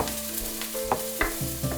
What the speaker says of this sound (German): Wieder ein bisschen Öl in die heiße Pfanne. Lauchzwiebel und Knoblauch anschwitzen.